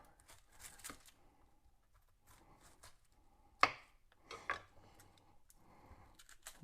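Dry papery crackles and tearing of an onion's skin being peeled by hand in a kitchen, with soft scattered rustles and a couple of sharper snaps, fairly faint and with no talking.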